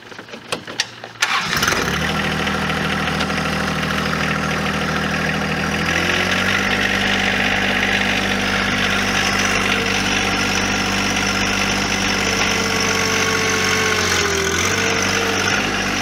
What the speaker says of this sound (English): I've got the chain choke set and tied off to the tractor,